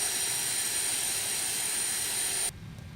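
A JT8D jet engine on an MD80 in a flight simulator gives a loud, steady roaring whine with a piercing high tone, then cuts off abruptly near the end, leaving only a faint low hum.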